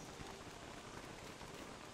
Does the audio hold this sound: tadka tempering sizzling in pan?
no